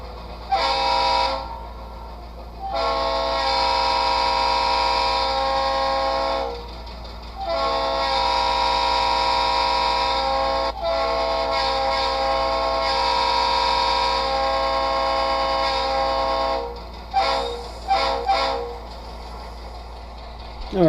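An HO model locomotive sound module plays through an iPhone speaker, with a steady engine drone and repeated loud multi-tone horn blasts, close and tinny, with no talk.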